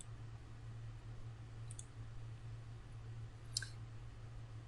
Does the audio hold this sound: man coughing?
no